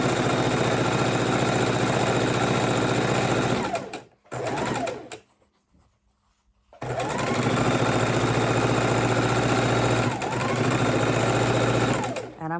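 A sewing machine stitches quilt strips together, running in a loud, steady mechanical whir that stops briefly for a near-silent pause, then resumes at full speed.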